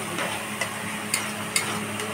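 Pointed gourd seeds, garlic, green chili and onion frying in oil, a steady close sizzle broken by a few light stirring clicks at regular intervals, with no voices.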